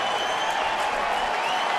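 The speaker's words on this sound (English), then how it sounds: "The crowd to its feet." Baseball crowd at a Tampa Bay at Detroit game rising to its feet, cheering and applauding with one more out needed; a dense, steady wash of clapping and cheers throughout, fairly loud and unbroken.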